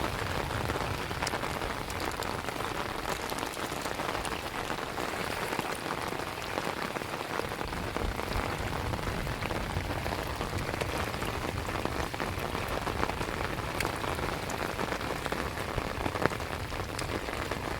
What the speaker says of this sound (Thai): เออฝนตก